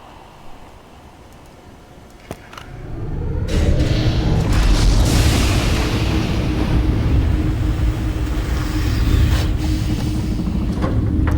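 A loud, deep explosion booms as machinery fires in the video game Riven, a sudden rumbling blast after a quiet stretch that then holds as a sustained roar to the end.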